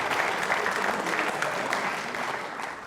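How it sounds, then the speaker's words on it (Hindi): Loud, dense applause from an audience at a quiz show for trainee state civil services officers, steady throughout and fading slightly toward the end. "तालियां बजा लो इनके लिए जोरदार तरीके से"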